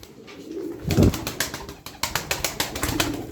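Domestic tumbler pigeons coo in a loft at close range in a quick, repeated series of soft throaty calls, with a brief wing flutter at the start.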